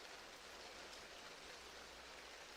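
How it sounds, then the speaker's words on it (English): Steady, soft rain ambience in a VRChat cyber cafe world, an even hiss of falling water with no breaks or other sounds. "I really like the quality of the rain, the vibe."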